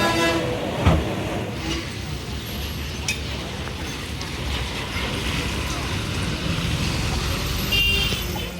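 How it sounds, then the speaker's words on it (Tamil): A train bound for Coimbatore pulling into a station, a continuous low rumble and rolling clatter with a faint horn toot, under crowd noise and people talking nearby. "ஃபைனலி நம்ம கோயம்புத்தூர் வண்டி வந்துருச்சு."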